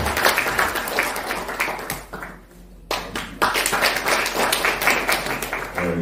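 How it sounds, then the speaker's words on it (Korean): Audience applause welcoming a speaker at a Korean political forum, brisk close clapping from a crowd that dips briefly midway and then picks back up strongly. "박수로 맞이해 주시기 바랍니다."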